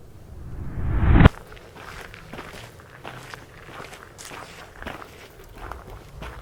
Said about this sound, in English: somebody dropping a coin and then footsteps.